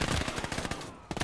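Rapid bursts of automatic gunfire aimed at a turret in a WWII real-time strategy video game, loud and close, a dense string of sharp shots with a short gap before a final volley.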